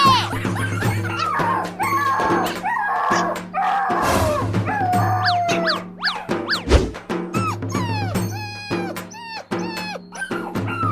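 A pet dog whimpers and yips in short, high, sliding cries after being struck, the whines rising and falling over a steady background hum, with people speaking in places.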